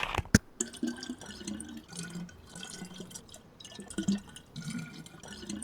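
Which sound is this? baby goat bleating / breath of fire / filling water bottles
filling water bottles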